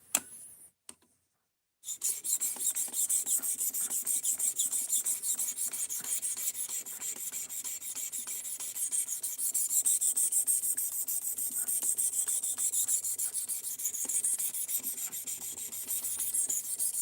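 A steel knife sharpened on grit whetstones up to 3,000 grit, a continuous close scraping rasp of rapid strokes after a brief silent start, steady and alone without talk.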